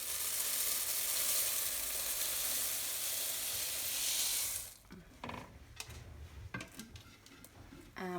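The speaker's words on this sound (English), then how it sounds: "we're just going to literally stir these together" Rice Krispies are stirred into melted marshmallow and white chocolate in a pan: first a steady, bright, crackling rustle of cereal, then sticky, uneven crunches and scrapes as the spoon works the mixture.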